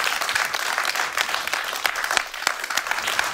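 A live audience at a remembrance livestream event applauds, dense continuous clapping from many hands, close and steady for the whole moment, with no talking over it.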